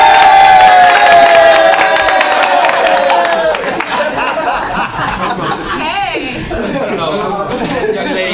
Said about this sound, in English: Everybody stand up and clap.